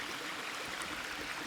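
A waterfall and a stream rush over boulders in a steady, continuous broadband flow. The sound is soft and unbroken, with no voices.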